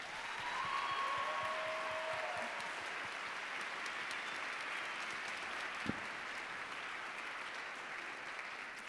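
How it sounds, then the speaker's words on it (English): Faint, steady applause from an audience at a college international student coffeehouse evening, a distant wash of clapping that holds evenly throughout with no talking. "Let's give another round of applause for the talents"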